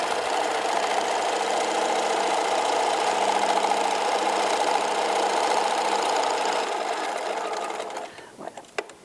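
Sewing machine stitching fabric for a gift bag, a steady fast whirring run lasting about eight seconds before stopping, followed by a few faint clicks and handling sounds.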